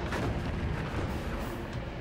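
A US Navy destroyer's 5-inch naval guns fire during a WWII kamikaze attack, heard as a dense, continuous roar of booming fire that fills the whole short stretch without pause.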